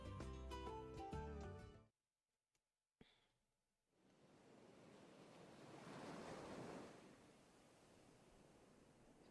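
Ocean waves wash onto a beach in the Twisted Wonderland video game, a broad hissing surge that swells and fades after a brief burst of music and a moment of silence.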